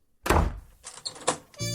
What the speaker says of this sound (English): And now the door's locked tight.